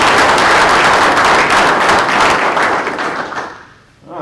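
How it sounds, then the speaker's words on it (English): A school board meeting audience applauds players of the year in esports, a dense, steady wash of clapping that holds loud for about three seconds and then thins out and fades. "a round of applause to those"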